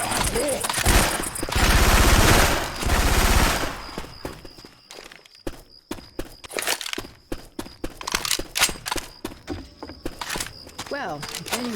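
Heavy automatic gunfire from Syphon Filter weapon sounds dropped into Left 4 Dead 2 roars in a sustained burst for several seconds, then breaks into scattered single shots and short bursts while voices call out between them.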